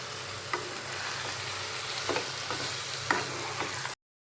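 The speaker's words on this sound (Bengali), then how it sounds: "জলপাইগুলো আমার মোটামুটি ভাজা হয়ে গিয়েছে।" Olives fry with salt in a pan for pickle, a steady close sizzle punctuated by a few sharp stirring scrapes, ending abruptly in silence.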